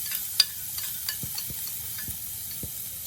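Garlic sizzles in hot oil in a pot while being stir-fried, a quiet steady hiss broken by faint scraping and stirring clicks, with no voices.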